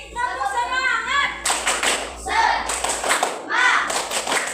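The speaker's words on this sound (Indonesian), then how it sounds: "Satu kali lagi, tepuk semangat." A classroom of children claps the rhythmic 'tepuk semangat' pattern in two loud, close bursts, each following a teacher's spoken cue and mixed with the group shouting together.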